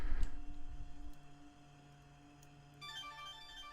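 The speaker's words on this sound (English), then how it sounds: "And hear that phone too?" An electronic ringing tone begins near the end, a bright repeating trill over a quiet room hum after some low thumps at the start.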